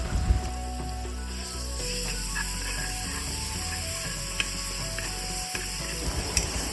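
Ginger garlic paste sautéing in hot coconut oil, a steady close sizzle with a rhythmic mechanical clicking running through it, no voices.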